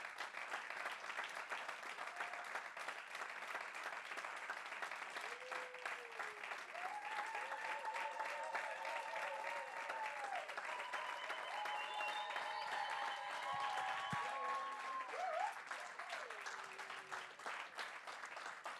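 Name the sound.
congregation applauding in church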